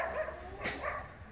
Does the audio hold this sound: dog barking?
yes